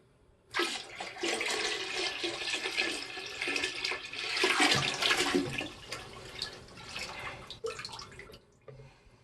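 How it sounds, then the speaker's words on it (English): Dirty carpet-cleaning water carrying sand and fine dust gets dumped and flushed down a toilet, a loud, continuous rushing swirl that starts abruptly, surges midway and drains away. "The dumping of the water."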